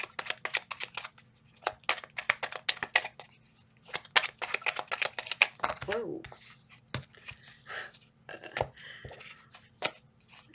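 Rapid bursts of crisp tarot card-shuffling riffles, repeated in quick clusters, with a brief exclaimed voice partway through.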